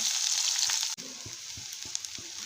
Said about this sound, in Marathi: इकडे आपण वाटण बनवायला कांदा भाजून घेऊया